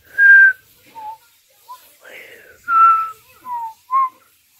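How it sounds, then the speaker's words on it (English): A person whistles short, wavering notes in separate bursts with gaps between them, close and fairly loud. "Oh no, I'm trying to whistle."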